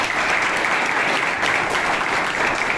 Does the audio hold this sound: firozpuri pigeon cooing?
no